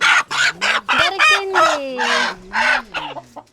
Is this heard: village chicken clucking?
yes